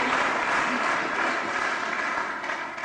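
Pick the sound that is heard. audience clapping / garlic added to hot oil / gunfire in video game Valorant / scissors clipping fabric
audience clapping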